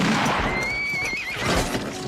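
Horse neighs loudly in a close, shrill whinny that rises and wavers for about a second amid scuffling hooves and commotion, in a dramatic Western-style scene.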